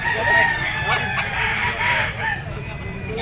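A yellow-legged gray national banded stag crowing loudly and close in a backyard breeding yard, one full drawn-out crow with clucking and other fowl faintly around it.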